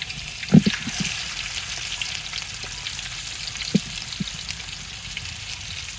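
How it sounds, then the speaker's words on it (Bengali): Steady sizzling of fish frying in oil in a kadai, with a few soft clinks and stirring bumps along the way. "এবার মাছগুলো ভাজছে"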